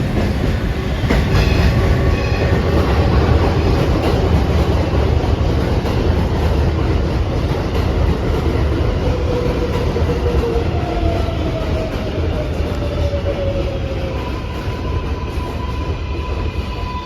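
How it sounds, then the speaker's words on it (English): A Flushing-bound 7 local subway train runs past at 52nd Street–Lincoln Avenue, a steady loud rumble of wheels and cars with faint clickety-clack and a brief rising wheel squeal, continuous and close throughout. "This is a Flushing Main Street bound 7 local train."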